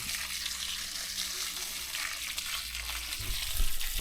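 Garden being watered with a steady, broad hiss of spraying water throughout, fairly loud and continuous, with a few splashy bumps near the end.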